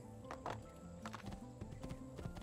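Horse hooves clip-clop at a steady walking rhythm in the video game Assassin's Creed II, and a brief whinny comes through near the middle.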